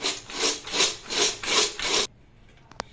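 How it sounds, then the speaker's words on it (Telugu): Cornflakes mixture with chili powder rattles and rustles inside a covered container, shaken back and forth in five quick rhythmic strokes over two seconds, then stops, leaving near silence and one small click. "మనం మూత పెట్టేసుకొని ఇలా కలుపుకోవాలండి"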